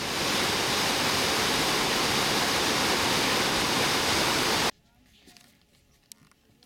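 Fresh, clean water rushes over rock potholes on the Drakensberg escarpment. A loud, steady roar fills the first four and a half seconds, then cuts off abruptly to quiet outdoor air with a few faint bumps.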